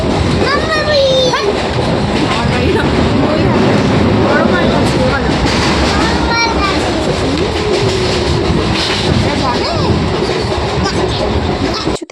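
A local train rattles along in motion, loud continuous rumble and clatter of wheels on track with rhythmic clicks, heard from inside the carriage with passengers' voices and chatter mixed in.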